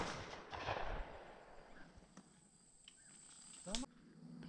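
Shotgun blasts at a public-land dove hunt opener, a couple of sharp distant reports over open-field ambience with insects and faint voices nearby.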